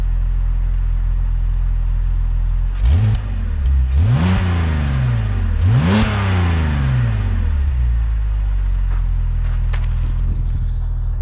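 BMW X3 Sport engine, high mileage, with a beefy idle that swells into three quick revs, each rising and falling, before settling back to a steady idle.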